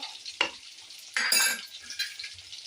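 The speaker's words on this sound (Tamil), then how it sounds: "பாருங்கள் குழம்பு நல்லா கொதிச்சிருச்சு மேலே எண்ணெய் தெரிஞ்சு வந்துருச்சு" Tamil fish curry with mango pieces simmers in a pot, oil risen to the surface, giving off bursts of bubbling and sizzling alongside a few stirring scrapes, close and without talk.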